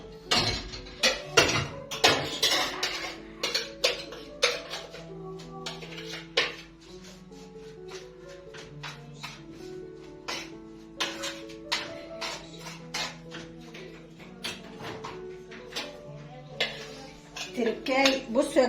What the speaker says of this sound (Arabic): احط دولت على البوتاجاز مع البصل